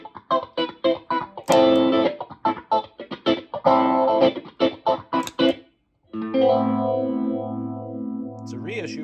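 A Script reissue phaser pedal colors an electric guitar, with choppy repeated strummed chords followed by a sustained swirling held chord that sweeps slowly, loud and close.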